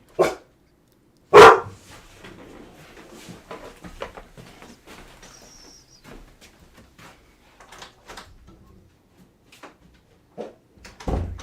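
Dogs bark around a neighborhood in scattered single and double barks, some close and loud, others fainter, spread irregularly over quiet background with a brief sliding-door-like thud and a faint high tone.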